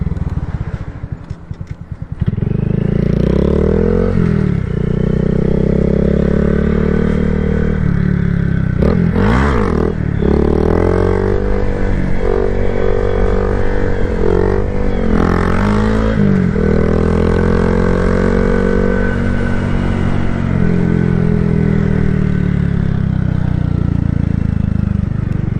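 A 2022 Honda Grom's small single-cylinder engine drones loudly and continuously while being ridden, rising and falling in pitch as the rider shifts and revs, with a few short dips and wind rumble throughout.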